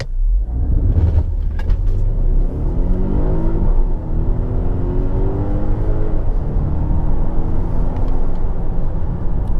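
A Volvo XC90 T8 in power mode launches hard from a standstill toward 100 km/h, its loud engine droning and rising in pitch through two gear changes with a steady, close interior rumble and no talking.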